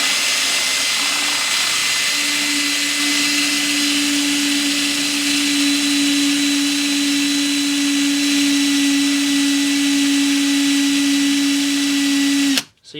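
A steady, loud whine of a rotating machine runs continuously while a ring made from a nut is sanded with 1,500 grit sandpaper, holding one even pitch before cutting off abruptly at the end.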